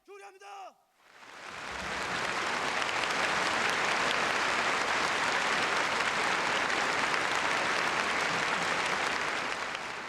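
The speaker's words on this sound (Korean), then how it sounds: "전체 참가자들의 열광적인 박수 속에 채택됐습니다" Enthusiastic applause from a full hall of congress participants at a youth league meeting, a dense sustained roar of clapping that swells in after a brief spoken moment and holds loud and steady to the end.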